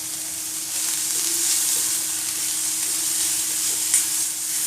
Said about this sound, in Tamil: வெங்காயம் வந்து ஒரு 5 நிமிஷம் நல்லா வதங்கட்டும்.